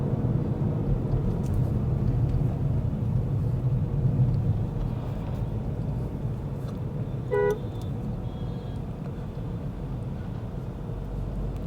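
A Renault Duster SUV accelerates on a city road in India, with steady, loud engine and road rumble filling the cabin throughout and a brief horn toot about two-thirds of the way in.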